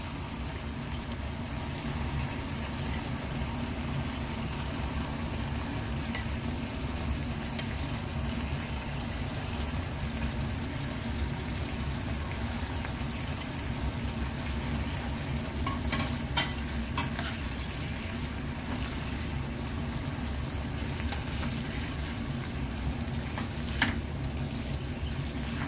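Fried fish simmering in a thick gravy over a high flame gives a steady bubbling sizzle with occasional stirring scrapes throughout, at a moderate level.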